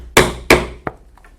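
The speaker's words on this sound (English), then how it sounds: "And now we will punch holes for the rivets using a 1/8 inch punch" A hand punch struck with a hammer through leather for rivet holes on a belt, two sharp loud blows followed by a lighter third tap and a couple of faint clicks.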